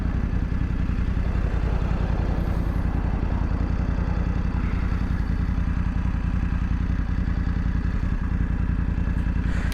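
A BMW F900GS motorcycle rides along on a hot day, its engine droning steadily and loudly from start to finish with a constant low rumble and wind noise.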